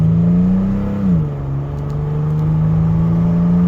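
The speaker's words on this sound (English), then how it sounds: "here's how it shifts with the shift pressure increased and the fluid changed" Toyota A750F automatic transmission in a Tacoma, 4Runner or FJ, with raised shift pressure and fresh fluid, shifting under medium throttle: a steady engine drone drops sharply in pitch at one firm upshift, then climbs again, with no talk.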